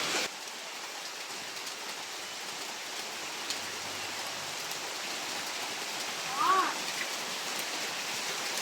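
Steady rain hiss fills the scene, a soft continuous patter at moderate distance with a brief faint tone near the end.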